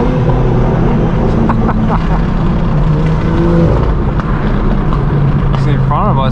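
A straight-piped BMW M4 G82 rumbles loudly from inside the cabin while driving, a dense, steady engine and exhaust roar running the whole time, with someone talking over it.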